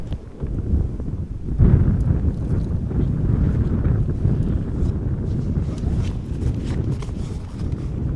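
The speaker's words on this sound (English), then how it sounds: "The wind is picking up" Strong wind blows across an outdoor airport, producing loud continuous low rumbling gusts and buffeting against the microphone that swell and hold steady.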